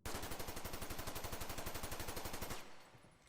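Rapid sustained automatic gunfire in the shooter game Ghost in the Shell: First Assault, a steady stream of evenly spaced shots for about two and a half seconds, then stopping abruptly with a brief tail.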